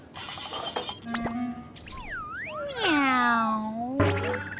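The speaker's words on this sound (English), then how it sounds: "Meow. said the cat." A cat meows in a few stretched, rising and falling cries, close and clear, with a short springy sound effect beforehand, like a sound-effect track for a children's story.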